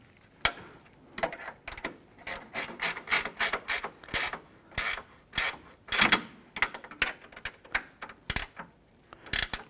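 A hand ratchet clicks in quick bursts while snugging down exhaust manifold bolts on a 2012-2017 Toyota, close and metallic, with short pauses between strokes.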